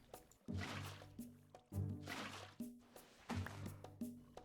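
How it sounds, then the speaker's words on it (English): Water being placed in a block-building video game, three repeated bursts of splashing, gurgling liquid pouring, each starting abruptly and fading, quiet and alone without talk. "Alright, now we start placing our water."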